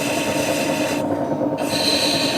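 A profile blade shaving a plaster surface and skipping across it, a continuous dense rasping chatter, loud and close, with a brief change in tone midway and no speech.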